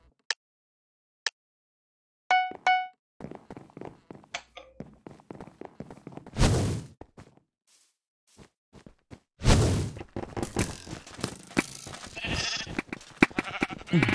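Sheep in a video game bleat in short, clear calls among footsteps and whooshing movement sounds, with several loud bursts of game noise in between.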